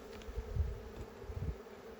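Defensive honey bees buzzing around their hive, a faint, low, wavering drone with a few slightly louder swells as bees pass close.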